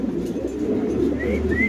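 A Spanish pigeon coos close by, a continuous low throaty rumble with faint higher chirps from other birds near the end, no talk.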